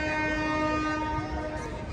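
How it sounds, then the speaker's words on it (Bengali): A train horn sounds steadily, close and loud, over the low rumble of a train beginning to move. "ওদেরকে ট্রেনে তুলে দিলাম, ট্রেন ছেড়েও দিল"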